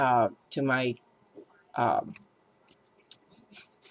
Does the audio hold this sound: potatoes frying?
no